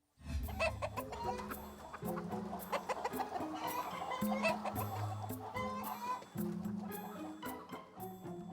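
Many hens cluck and murmur together inside a huge mega-scale poultry facility, a busy overlapping chorus of short calls at close range, with low mechanical hum beneath.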